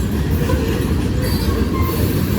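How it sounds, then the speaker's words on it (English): A loaded grain train rolls steadily past close by, its heavy cars rumbling over the rails with faint metallic squeals and a constant low roar throughout. "That's a loaded grain train."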